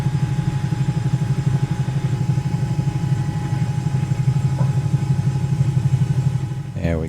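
Bell 222B helicopter in Microsoft Flight Simulator lifting into a hover, a steady loud droning engine and rotor hum with a continuous rhythmic thrum throughout, close and unbroken, ending with a brief sweeping rise.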